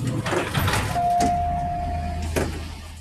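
Elevator door slides open in a designed sound effect, one loud swelling whoosh with a sustained tone before a second sharp rush near the end, heard alone.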